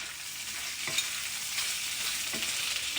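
Chicken being stirred and fried in a pan for chicken pastel, a steady soft sizzle with a few scraping stirs of the spoon at intervals, no voices.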